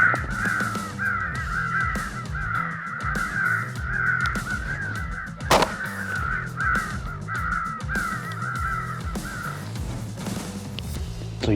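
Crows cawing repeatedly through a crow hunt outdoors, steady harsh calls from several birds overlapping at moderate distance, with one sharp loud bang near the middle.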